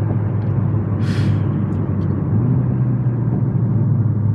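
Renault Megane 4 RS in sport mode with manual shifting, its engine a steady low rumble from inside the cabin while driving on a real road, with a brief hiss rising midway.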